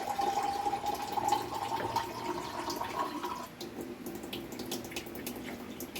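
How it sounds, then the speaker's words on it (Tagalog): Water streams steadily into a pot of crab simmering in coconut milk, a continuous near splashing pour for about three seconds that then gives way to softer bubbling and trickling with faint ticks, no voices. "So damihan na natin ang tubig mga sano para hindi na tayo magdagdag mamaya."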